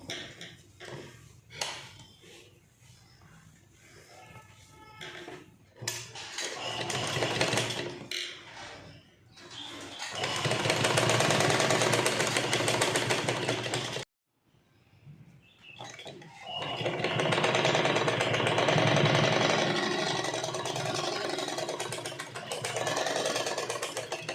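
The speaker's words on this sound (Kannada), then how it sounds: "ಈ ಬಟ್ಟೆ ಮತ್ತು ಇದರ ಮಿಡಲ್ನಲ್ಲಿ ನಾವು ಸ್ಟಿಚ್ ಹಾಕ್ಕೊಳ್ತಾ ಹೋಗ್ಬೇಕು" A sewing machine stitches folded fabric for a puff sleeve, running in short bursts at first, then in long loud continuous whirring runs with one brief pause midway.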